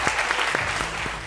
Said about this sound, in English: They all clap